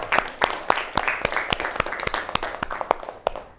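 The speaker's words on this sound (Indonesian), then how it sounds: "Beri tepuk tangan untuk ini." A classroom group claps in a quick, steady burst of applause, crisp and fairly close, fading slightly toward the end.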